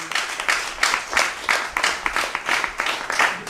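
An audience claps at a webcast on gender inclusion in community networks, a short burst of rhythmic, fairly even clapping from a modest crowd, heard close and alone.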